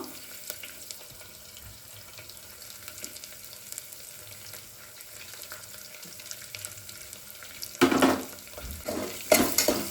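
Onions frying in a pan on the way to golden brown, a steady close sizzle with occasional stirring scrapes that swell louder toward the end, no talking.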